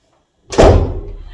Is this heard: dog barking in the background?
no